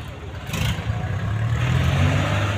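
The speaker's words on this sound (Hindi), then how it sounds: "देखिए पहली बार में स्टार्ट हो रहा है, कोई दिक्कत नहीं है स्टार्टिंग में।" A used Eicher tractor's diesel engine fires on the first try and settles into a steady, loud chugging run close by, with a brief burst of starter noise near the beginning.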